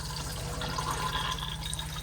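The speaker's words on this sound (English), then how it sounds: "to flush, you want to make sure you've got your water pump turned on, and then you should press the blue button" Water rushes into a flushing cassette toilet in a 2022 Auto-Trail Tribute F62 motorhome, the steady close gush riding over the low hum of the running water pump.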